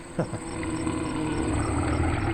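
A moose growls at a pack of wolves at very close range, a deep lion-like roar that begins with a couple of rough bursts and then settles into a steady, rumbling drone over constant insect and outdoor background noise.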